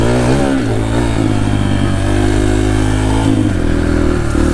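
A motorcycle engine revving on a dirt track, loud and close, with rising and falling pitch as the rider changes throttle and gears, nearly stalling at one point.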